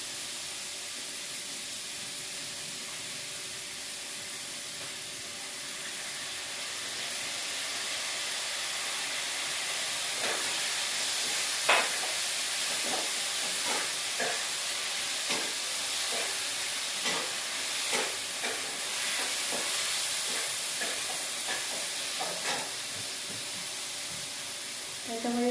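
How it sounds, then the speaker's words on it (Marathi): Ground masala paste dropped into a hot pan with curry leaves, giving a steady broad sizzling hiss that builds slightly and is dotted with small pops and crackles throughout. "आणि आता हे त्याच्यामध्ये वाटण टाकते"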